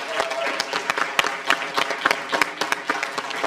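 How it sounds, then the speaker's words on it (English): Audience at a school board meeting applauds students, a lively burst of clapping from a modest crowd with distinct sharp hand claps standing out, steady and fairly close. "I really have to ask for just a big applause for the kids for coming up."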